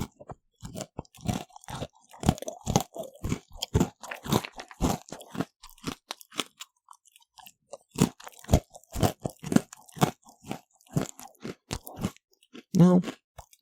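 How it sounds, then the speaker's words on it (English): Strawberry yogurt pretzels crunched in the mouth close to the microphone: a steady series of sharp, crackly bites and chews with a brief pause midway, then a final louder crunch. "Hopefully the crunch picks up on the microphone well enough."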